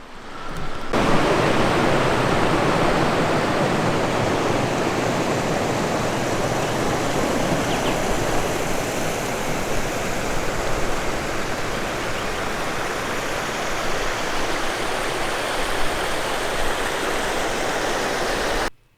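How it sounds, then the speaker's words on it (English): A waterfall pours into a rock pool at Margaret River, a steady, full rushing roar of water that starts abruptly, holds constant and close for the whole stretch, then cuts off, with no voices. "Quite a nice pool here at the top of the waterfall"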